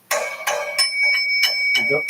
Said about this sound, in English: This is me ringing the bell